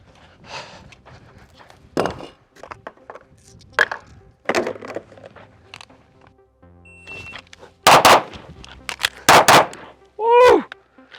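Loud, sharp pistol shots from a Canik TTI Combat handgun at a shooting range, a few spread single reports followed by a tight cluster of rapid double shots, with brief talk between them.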